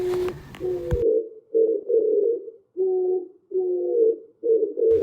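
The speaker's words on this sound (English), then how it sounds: "This is pigeon." Pigeon cooing in a series of soft, low hooting phrases with short gaps between them, close and clear, after a brief burst of other sound at the start.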